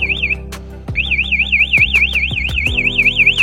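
A motorcycle anti-theft alarm, set off by a touch, blares a loud warbling siren that briefly pauses, then restarts and repeats steadily alongside a few short chirps.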